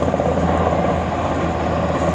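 NH90 military helicopter flying at very low altitude during a special forces exercise near Thessaloniki, a loud close continuous rotor and turbine roar with steady dense chop throughout.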